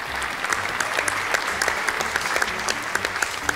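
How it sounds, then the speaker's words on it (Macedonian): A studio audience at a Macedonian TV show applauds during scoring, a dense, steady clapping of many hands that continues evenly throughout, fairly close and with no speech over it. "Аплауз!"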